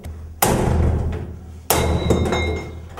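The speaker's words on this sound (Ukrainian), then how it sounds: "Ключ не підійшов. У пригоді став молоток." A hammer strikes a locked door to force it open, two loud, sharp impacts about a second apart, each ringing on with a metallic rattle, with no voices.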